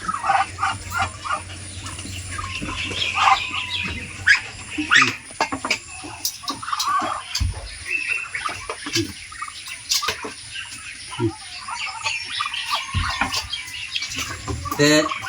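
A busy flock on a duck farm keeps up close, overlapping quacks and chatter, with scattered thumps and rustling throughout.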